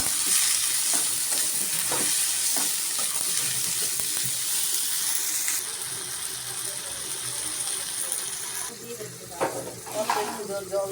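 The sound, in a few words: stirring spices frying in a pan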